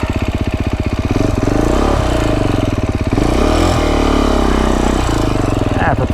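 A Beta 350rr X-pro dirt bike engine, restarted hot after priming, chugs and revs with a steady pulsing rumble, rising and falling in pitch over several throttle blips, loud and close.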